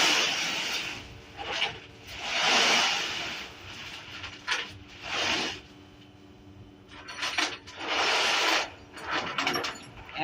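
Tow truck bed being lowered while towing a 2016 Nissan Altima, with intermittent mechanical clanks, ratcheting and hydraulic whooshes in uneven bursts separated by quieter gaps, fairly close.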